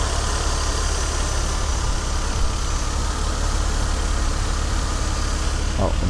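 A Mercedes-Benz R129 300SL with the M104 engine runs after a fuel distributor repair, holding a steady, close, uninterrupted idle rumble for the whole stretch with no voices over it.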